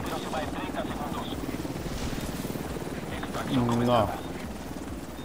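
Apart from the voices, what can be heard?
helicopter in video game The Division 2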